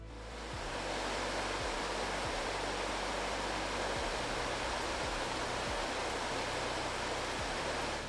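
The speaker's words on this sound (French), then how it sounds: "On peut remonter un peu le cours d'eau jusqu'à la cascade du Vernoux." Steady broadband rush of the Vernoux stream, a spring-fed resurgence near the Lison in a limestone valley, flowing toward its waterfall; loud, continuous and close, with faint low knocks underneath and no talking.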